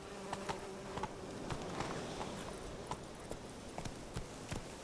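Roach, the horse in Witcher 3, gallops along with steady rhythmic hoofbeats over a constant buzzing, whirring background hum.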